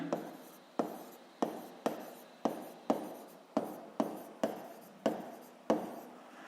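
Chalk or pen marking a board while writing out the law of conservation of momentum during a physics lesson, about ten sharp taps each trailing into a short scratchy stroke, evenly spaced and close, with no talk.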